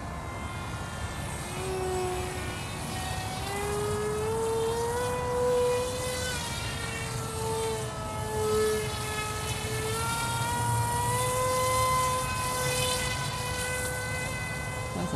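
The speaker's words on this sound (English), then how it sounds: "That's some serious hovering there with the jet." A foam thrust-vector RC parkjet hovers nearby, its electric ducted motor whining steadily with shifting pitch as the throttle rises and falls, loud and continuous throughout.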